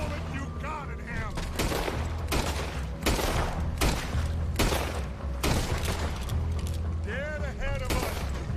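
Heavy gunfire in Red Dead Redemption 2, loud shots rhythmically repeated over a constant low rumble, with shouted voices between the blasts.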